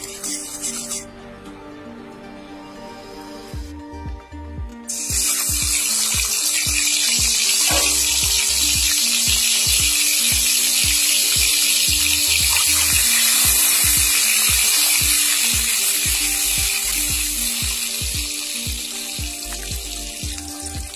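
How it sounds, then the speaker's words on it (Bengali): Eggs seasoned with salt and turmeric fry in white oil, a loud, steady sizzle and crackle that fills the pan for the whole stretch after a quieter start, with no talk. "সাদা তেল দিয়ে ডিমগুলোকে ভেজে নেব।"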